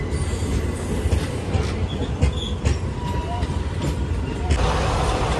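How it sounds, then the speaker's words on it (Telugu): A train pulls into a station with a dense rolling rumble, rattling wheels and faint squeals, steady and close, with people talking under the noise. "మన ట్రైన్ వచ్చేసింది."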